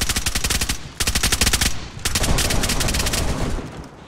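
Gunfire in the video game DayZ: loud, close bursts of rapid automatic shots, three volleys in quick succession, the last trailing into a sustained rattling roar.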